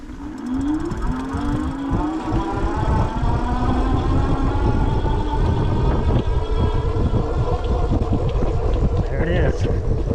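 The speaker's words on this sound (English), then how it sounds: "So from a complete stop, full throttle, see how long it takes to get to our 20 mile an hour here on this road." A Puckipuppy e-bike accelerates at full throttle from a stop on a road, a steady motor whine rising in pitch over several seconds under constant wind and road rumble, close to the rider.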